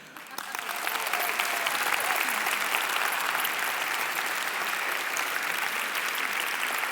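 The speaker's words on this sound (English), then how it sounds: "a round of applause for the men who are here" A conference audience at a plenary session on sustainable financing and advocacy breaks into applause, swelling within a second into loud, sustained, even clapping that continues to the end.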